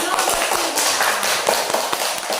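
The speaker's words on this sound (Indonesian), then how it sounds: "Oke, tepuk tangan." A class of students claps together after a group fractions project, a dense, continuous patter of many hands that stays steady and fairly loud across a noisy classroom.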